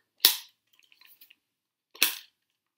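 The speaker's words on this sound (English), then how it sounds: "Oh, I hear something rattling." Small objects rattle inside a storytime story box in two short, sharp shakes about 1.7 seconds apart. They are close and fairly loud, with faint light clicks in between and no talking.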